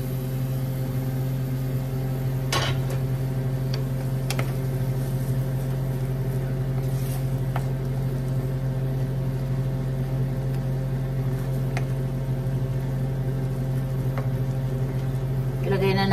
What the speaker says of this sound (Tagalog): Ayan, kumukulo siya.